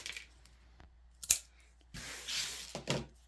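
A small popsicle stick cuts at an angle through polymer clay for fake bake pops: a few soft, brief scraping strokes and rubs close by, with quiet gaps between them and no talking.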